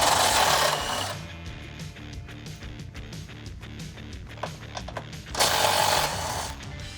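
Socket wrench removing body mount nuts on a Jeep Wrangler JL 4-door, in a rapid mechanical rattling burst at the start, a steady clattering stretch in the middle, and a second loud burst near the end.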